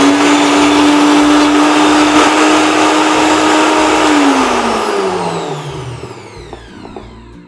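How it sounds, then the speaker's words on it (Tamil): A mixer grinder jar whirs loudly and steadily as it grinds ginger, garlic and a small onion, then the motor winds down and slows to a stop over the last few seconds. No one talks. "இப்போ இதை நல்லா அரைச்சிடலாம்."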